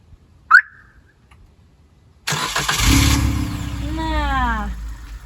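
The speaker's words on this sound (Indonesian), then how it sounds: "Sekarang kita akan buka atau nyalakan kondisi dari mesinnya dengan kunci ini saja" A 2019 Suzuki Jimny JB4 1.5 manual 4x4 starts with an upgraded key. A short chirp comes first, then the engine cranks and catches into a steady idle, with a rising whine over it.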